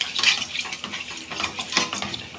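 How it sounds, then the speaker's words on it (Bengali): Mustard seeds spluttering in hot oil while a spoon presses and stirs them in the pan, quick crackling pops and scraping in an uneven rhythm, close and fairly loud. "সর্ষেটা একটু চামচ দিয়ে ডলে নেব, মানে সর্ষেগুলো ফাটিয়ে দিচ্ছি।"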